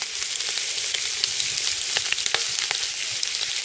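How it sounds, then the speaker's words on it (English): Bacon frying in a pan at a bush campsite at Coochin Creek, Australia: a steady close hiss of sizzling fat dotted with sharp pops and spits. "Cooking bacon in the bush."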